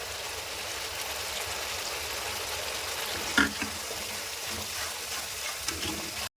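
A spiced gravy with sugar, poppy seed paste, melon seed paste and green chillies simmering on the stove, giving a steady, fairly quiet bubbling hiss with a brief clink partway through.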